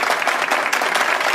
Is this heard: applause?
yes